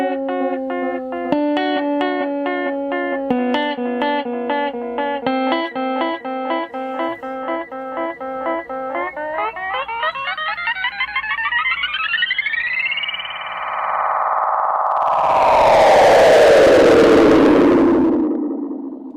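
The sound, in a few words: Cerberus effects unit tape echo delay effect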